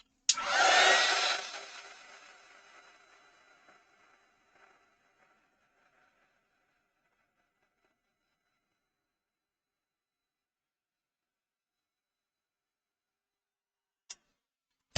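Hair dryer blasting a watercolour painting of cow parsley to dry it: one short loud burst of about two seconds that fades away, followed by near silence and a faint click near the end.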